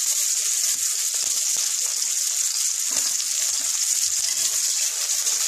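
Thinly sliced onion and two slit green chillies fry in a pan, a loud, dense and continuous sizzling hiss with a few faint pops and clicks, no talking.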